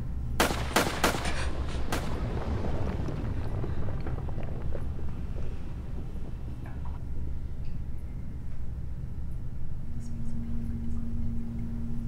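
A sharp volley of gunshots answers a shouted order to fire, several loud cracks close together in the first two seconds, then a long rumbling decay under steady wind and a faint low hum.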